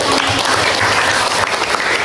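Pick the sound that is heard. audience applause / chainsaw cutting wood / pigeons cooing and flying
audience applause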